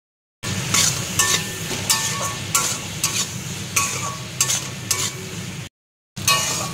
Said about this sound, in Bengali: আমি ভাজা ভাজা করে দেবো এবার এটাকে।